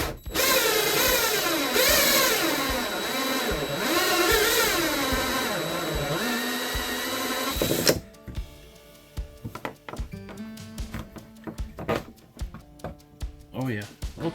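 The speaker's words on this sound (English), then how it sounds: "Used some electrical tape to mark how far I'm going to drill" Power drill boring a mounting hole in a Pond Prowler 10 boat for a Garmin EchoMap UHD2 63 SV fishfinder, a loud continuous whine for about eight seconds that stops abruptly and gives way to scattered knocks and handling clatter.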